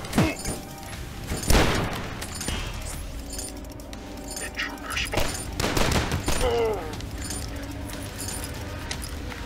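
Gunfire in the retro shooter DUSK, with sharp shot bursts and clinking impacts over game sounds, fairly loud and irregular with no talking.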